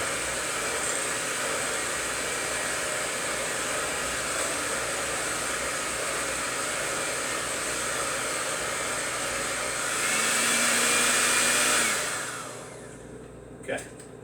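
A stand mixer motor with paddles churns thick butter cake batter, making a loud steady whirring drone that swells briefly near the end before winding down and stopping with a small clunk.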